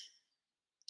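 Two quick, faint mouse clicks near the end while working in Photoshop CC 2018, preceded by a brief soft tick, with no talking.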